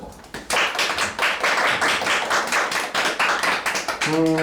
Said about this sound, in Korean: 자, 모두들 박수.